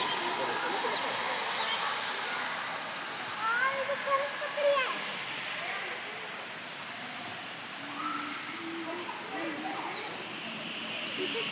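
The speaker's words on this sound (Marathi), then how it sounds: "धबधबा दाखवते तुम्हाला" Steady rushing hiss of a waterfall at Jubilee Park in Jamshedpur fills the scene, broad and continuous, with voices talking faintly over it.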